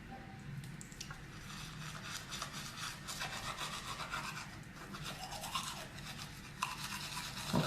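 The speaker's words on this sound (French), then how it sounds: "On rebrosse les dents." Teeth are brushed with a toothbrush, producing a steady close scrubbing with quick back-and-forth strokes that carries on unbroken and fairly quiet, with no talking.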